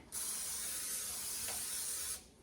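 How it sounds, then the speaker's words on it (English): A continuous hissing burst of cooking spray into a Dutch oven, close and lasting about two seconds, starting and stopping abruptly. "I am going to spray it a little bit because I don't want it to stick."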